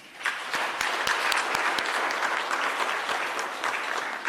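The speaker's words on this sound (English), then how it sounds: "Let's give them a clap." Audience applause at a Kenyan university cybersecurity student event: a steady, dense wash of many hands clapping at close range, sustained throughout without pause.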